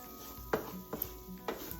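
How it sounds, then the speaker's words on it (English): Spoon scraping and stirring flour into sausage cooking in a pan over low heat, giving a few soft knocks and scrapes against quiet frying. "you're just gonna stir that around on the sausage"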